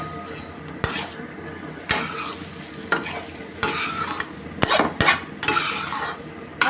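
Mama instant noodles being stir-fried in a pan, with a steady sizzle under repeated scraping and clinking of a utensil against the pan in irregular strokes, close and fairly loud, no talking.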